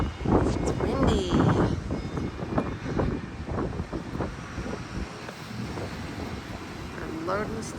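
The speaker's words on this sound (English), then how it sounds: "It's windy." Wind gusting across an open deck of the Icon of the Seas cruise ship in Miami, a steady broad rushing that buffets the microphone throughout, with people talking over it.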